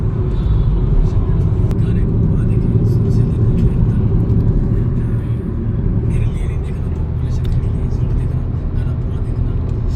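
A car cruises on a highway from Delhi toward Dwarka, its steady low road rumble and engine drone continuous and close throughout, with people talking faintly over it.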